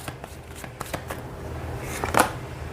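Tarot cards being shuffled during a reading, a soft papery riffle with scattered light flicks building to a brief louder burst near the end, heard alone and close.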